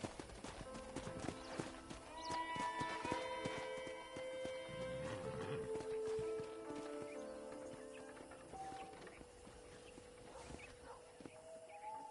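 Horse hooves clip-clop at a ranch in Red Dead Redemption, a steady walking rhythm heard over faint tonal music, with a brief horse whinny in the middle.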